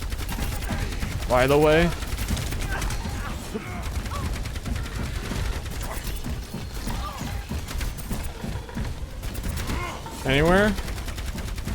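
Gunfire in the video game Myriad, bursts of shots and mechanical clatter running through the clip beneath people talking.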